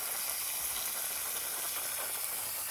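Water spraying hard from a drip irrigation line broken by a lawnmower in a backyard vineyard, a steady close hiss that never lets up.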